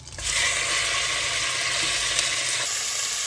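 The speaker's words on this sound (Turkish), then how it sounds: "Şimdi yağ da kızdı. Eti alıyorum." Seasoned meat drops into hot oil in a pan and sizzles loudly and steadily, a bright continuous frying hiss close up after a brief quiet start, with no voices.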